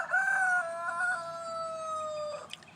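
A rooster crowing once, a loud, nearby, drawn-out cock-a-doodle-doo that fades at the end, followed by a brief rustle.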